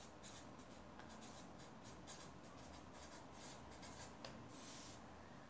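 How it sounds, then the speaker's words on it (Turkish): Chalk or marker scratches across a classroom board in short repeated strokes, soft and close with a steady faint background hiss and no talking. "Yazalım şuraya adaptasyon."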